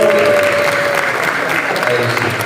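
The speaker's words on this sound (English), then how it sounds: "can you please give a round of applause for Mr." Audience applause at a screen industry summit in Durban, steady dense clapping filling the whole stretch at close range, with a faint voice underneath.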